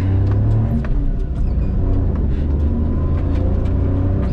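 A Maruti Alto car drives on the road, heard from inside as a steady, loud low engine and road rumble with no talking.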